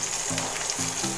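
Chopped onions for biryani sizzle and crackle in hot oil in a pan, a close steady frying hiss with a few soft stirring scrapes and no one speaking.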